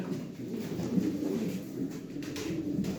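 Racing pigeons coo softly and repeatedly in a low, throaty rhythm, close by and steady, with several birds overlapping and no voices.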